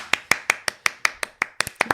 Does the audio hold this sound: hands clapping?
yes